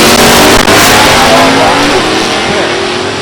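Camaro drag cars at Beech Bend, a third-generation with a 305 and a first-generation with a 350, roar down the strip side by side in a loud, sustained engine blare, with an announcer's voice mixed in.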